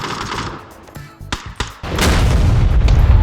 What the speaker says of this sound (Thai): รถระเบิดละพี่